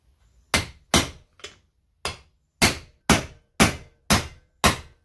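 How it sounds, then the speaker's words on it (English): A copper hammer strikes a Land Rover Defender axle part during a refurb: nine sharp metallic blows in a steady rhythm, roughly half a second apart, close and loud with no talk. "So, copper hammer."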